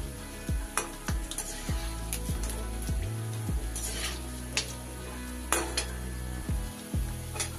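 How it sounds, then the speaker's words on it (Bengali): Rosbora dough fritters deep-frying in oil over medium heat sizzle softly while a spoon repeatedly scrapes and clinks against the pan, irregular close taps over a low bubbling hiss. "আঁচটা কিন্তু আমি মাঝারি আঁচে এইভাবে বড়াগুলোকে ভেজে নিচ্ছি"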